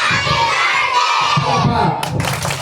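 Children at a seventh birthday party game shout together loudly in a burst of cheering crowd noise, with a sudden bright, sharp rise of shrieks near the end.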